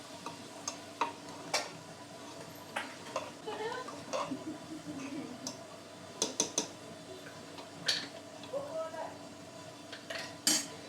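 Spoon scraping and clinking against a pan in intermittent strokes over a faint sizzle as onion is sautéed with spices; a little indistinct voice in the background.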